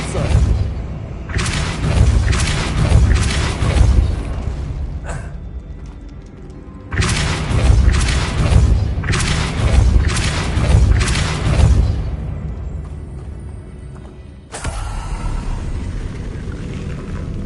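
Depulso force spells cast in Hogwarts Legacy, heard as several loud, booming blasts in clustered bursts with short gaps between them and a heavy, rumbling low end.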